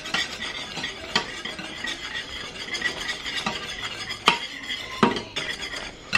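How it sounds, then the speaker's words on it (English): Spoon stirring food in a pot on a stovetop, with scattered clinks of utensil against cookware and soft scraping, a few sharper knocks standing out near the end; no talking. "Make sure you give it a stir here and there so it doesn't burn."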